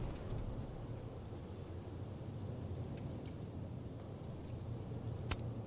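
Psychic thunderstorm in the video game Life is Strange: Double Exposure, a steady rain-and-wind hiss with a low rumble and a sharp crack near the end, faint and alone.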